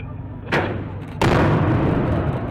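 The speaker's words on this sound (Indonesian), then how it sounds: "Kedua kapal diledakkan dan ditenggelamkan di perairan antara Pulau Tidore dan Ternate." Two foreign-owned fishing net boats blown up with explosives by the navy in the waters between Tidore and Ternate islands; two loud booming blasts about a second apart, the second heavier, followed by a sustained rumbling roar of debris and water.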